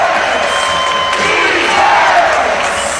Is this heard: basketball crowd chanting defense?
yes